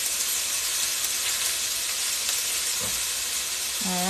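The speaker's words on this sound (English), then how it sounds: "We love to hear sizzle in the pan, right?" Chicken sizzling in a frying pan, a steady close hiss throughout, with a brief voice near the end.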